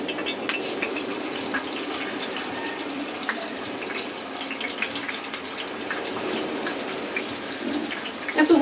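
Spice-coated rupchanda (pomfret) fish fry lightly in a pan, giving a steady, moderately loud sizzle and crackle. It carries on continuously throughout without a break.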